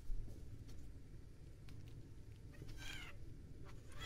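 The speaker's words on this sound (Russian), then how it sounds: "Диана, Диана, зачем ты кошку трогаешь?" A house cat meows once, briefly and fairly close, in a home kitchen where pasta is being cooked, over a steady low background rumble.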